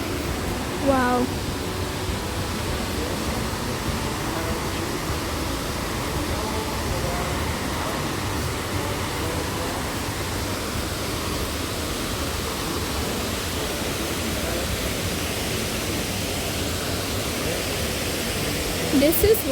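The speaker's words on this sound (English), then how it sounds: "This is what we call a waterfall." Steady roar of a waterfall in Meghalaya, reached on a trek, a broad continuous wash of falling water filling the whole stretch at an even level, with brief voices near the start and end.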